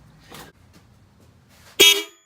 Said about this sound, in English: I'm gonna go ahead and honk the horn.